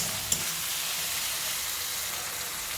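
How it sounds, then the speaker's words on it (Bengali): Tomatoes fry in a pan with a steady, dense sizzle that barely changes, and a single sharp tick comes early as they are stirred. No one speaks. "টমেটো একসঙ্গে আমি নেড়ে তুড়ে কিছুক্ষণ ভেজে নেব"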